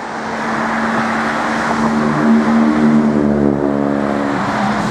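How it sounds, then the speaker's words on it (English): Road traffic rumbling past near a railway bridge on a canal towpath, a steady loud engine and tyre roar with a droning low hum that swells and lingers as vehicles go by. "I'm going to get very noisy because traffic's coming past."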